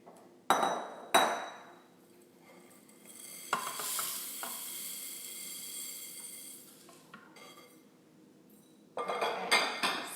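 Dry organic split peas poured into a pressure cooker, coming as short rattling bursts and a longer sustained patter of hard little pieces striking metal, close and fairly quiet, with no speech.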